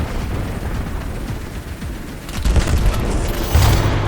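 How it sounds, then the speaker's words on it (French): Frag grenade and precision missile strikes in Call of Duty BO7 boom in a dense, loud barrage of rumbling blasts and crackling debris that swells toward the end. "Grenade frag envoyée. Ici Grim, tirez le missile de précision."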